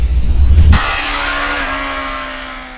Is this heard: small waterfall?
no